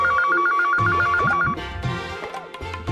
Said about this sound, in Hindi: अरे कोई फोन तो उठाओ।